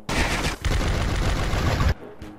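Dense automatic gunfire from a Free Fire battle rattles continuously and loudly for about two seconds, with a brief gap early on, before stopping abruptly into quieter ambience.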